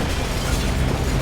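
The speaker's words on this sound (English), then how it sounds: "we can punch the buildings, I can kick them" In an Xbox Live Indie game, a giant avatar punches and kicks through buildings, making a continuous loud, heavy crashing rumble of destruction with no let-up and no voices.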